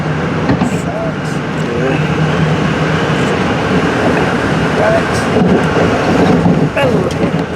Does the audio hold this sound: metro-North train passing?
yes